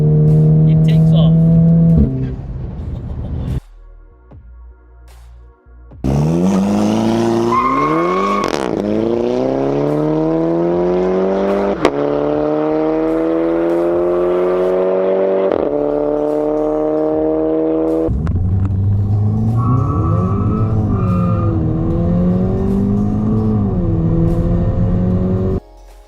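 A VW Golf 5 GTI fitted with a Golf 6R turbo revs and accelerates hard, its deep engine note climbing through several long pulls up close, loud with brief gaps.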